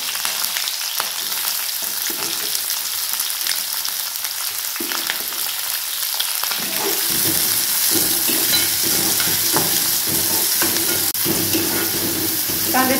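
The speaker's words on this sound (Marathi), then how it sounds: "कांदे थोडे लाल होईपर्यंत भाजून घ्यायचे आपल्याला।" Chopped onion and green chilli fry in oil in a pan for upma, a steady loud sizzle throughout that grows fuller partway, with occasional scrapes of stirring and no talk.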